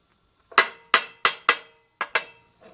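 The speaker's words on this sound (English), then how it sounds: "Give her a tap or two." A piece of metal clamped to a workbench is struck with sharp metallic taps, six clear ringing hits in a quick uneven rhythm followed by a softer final knock, close and alone.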